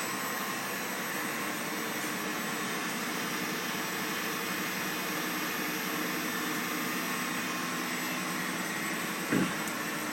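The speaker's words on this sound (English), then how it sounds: "Spindle starts, the oil pump turns on, and the feed begins to feed." Pratt & Whitney drill press running with spindle, oil pump and feed engaged, a steady broadband machine hum and hiss held at constant level throughout, with a brief low thump near the end.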